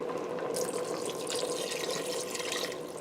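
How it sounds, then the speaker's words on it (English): Water pours steadily from a tap into a pot of collard greens, a continuous splashing stream at moderate level with no talking. "I am going to add just a little bit more water"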